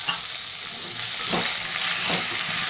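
Onion, peanuts and tomatoes frying in a pan, giving a steady bright sizzle with a couple of soft stirring scrapes.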